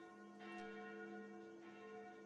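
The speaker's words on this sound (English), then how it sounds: "Those sound like the church's noontime bells." Church bells ring at noon in the horror dating game Sucker for Love, heard as two resonant, sustained strikes blending into a humming drone, moderately faint and distant, with no talk.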